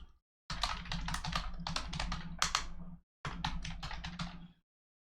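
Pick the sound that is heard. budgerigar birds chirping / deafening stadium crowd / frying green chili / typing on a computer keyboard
typing on a computer keyboard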